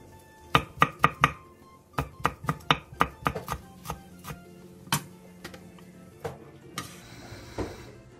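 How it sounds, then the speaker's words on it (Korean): A knife chops green onion tops and red chili on a board, with quick bursts of sharp, close taps followed by slower scattered cuts and light handling noise at the end. "대파 초록 부분 조금과 홍고추 조금을 쫑쫑 썰어주세요"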